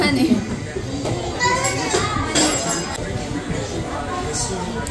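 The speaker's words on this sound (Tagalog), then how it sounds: "Maingay lang po yung mga bata at naglalaro." Children at a Filipino family birthday gathering playing noisily: a busy mix of shouting kids' voices and chatter, with occasional clinks of dishes, fairly close and continuous.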